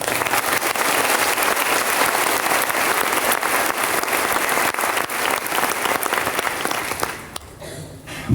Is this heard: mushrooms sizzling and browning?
no